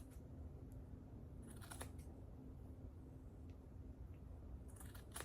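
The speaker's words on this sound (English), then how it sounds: "You can see I'm just snipping down to the rib part." Scissors snip through fence material while shaping a snowman hat: a few quiet, sharp cuts near the start and a cluster of quick snips, then more near the end, over a soft hum, with no voices.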